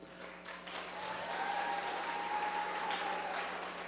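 An audience at a debate on federal GMO labeling breaks into applause, a soft, distant wash of clapping that swells and holds steady over a faint background tone.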